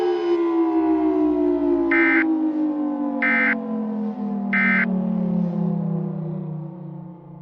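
A loud EAS emergency alert attention tone for a tornado outbreak sustains steadily, its dual pitches gliding slowly downward as it fades near the end, with three short beeps over it early on.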